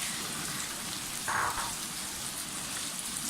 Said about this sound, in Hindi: पहले सिर्फ कीमा डाल के भूनें